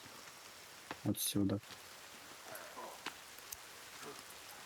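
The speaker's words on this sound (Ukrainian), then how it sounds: "Дощ." Steady rain in the survival video game The Forest, a soft, even hiss running low in the background beneath a short spoken word and a few brief nearby clicks.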